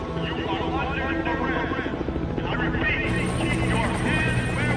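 A helicopter's rotor chop and engine roar, loud and continuous, mixed with other dramatic sounds and a voice speaking over it, during a helicopter attack in the film Death Race.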